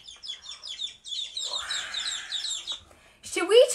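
Baby chicks chirp busily in rapid, overlapping high peeps for several seconds. A short, louder voice-like call comes in at the end.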